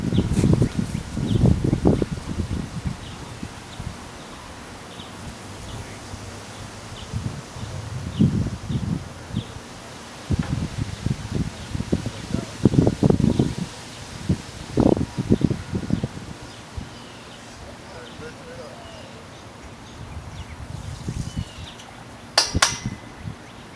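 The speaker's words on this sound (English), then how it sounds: "Sorry if it's really windy" Gusty wind in a Texas junkyard buffets the microphone in uneven bursts, with low rumbling thumps and a steady airy hiss underneath.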